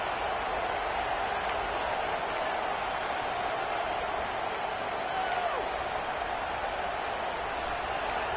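Steady roar of a large stadium crowd at a USC vs Oklahoma college football game, a continuous broad wash of voices with faint higher whistles and shouts poking through.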